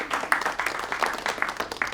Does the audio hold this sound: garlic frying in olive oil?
no